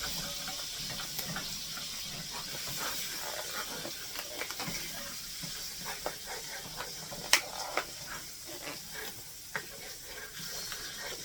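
Two tablespoons of butter melt in a hot pan, giving a steady, fairly quiet hiss and sizzle throughout with small crackles and pops scattered across it, and no talking.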